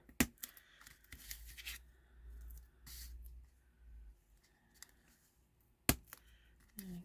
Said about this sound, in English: look how easy it is to tear these. I'm not even using scissors. I'm just kind of like ripping it